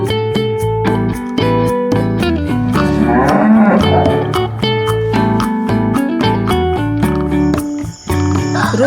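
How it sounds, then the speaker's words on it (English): Cow on a farm giving several loud, drawn-out moos one after another, close and clear, with faint insect chirping in the background. "Cow."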